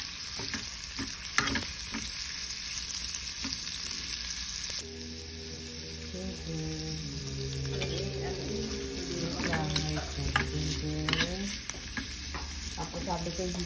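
Garlic and onion sauté in a pan for squid adobo with eggplant, a steady sizzle with stirring clicks early on. Music with sustained tones comes in after about five seconds and continues over the frying.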